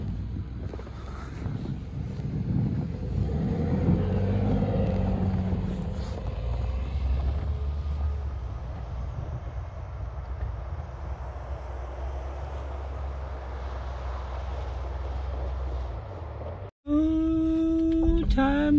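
A Ford F-150 pickup spins donuts on a slippery flat patch: a continuous engine roar with heavy wind buffeting across the microphone, ending in an abrupt cut near the finish.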